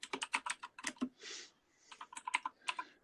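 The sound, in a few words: typing on a spring computer keyboard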